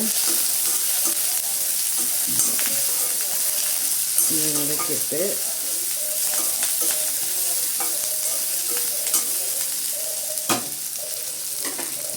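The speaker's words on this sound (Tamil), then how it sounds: "கேரட்டு போட்டு கொஞ்சம் வதக்கிட்டு" Carrots and curry leaves sautéing for rava upma, a constant bright sizzle with scattered clinks and scrapes of stirring, close up, and a brief murmur of voice in the middle.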